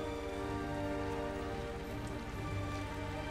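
Steady rain falls in a continuous patter in the video game Hitman 3, with soft tonal hum layered underneath throughout.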